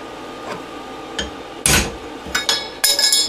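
A hammer strikes a center punch to mark metal for drilling, giving a few sharp metallic taps, the later blows louder and quicker, with no talk.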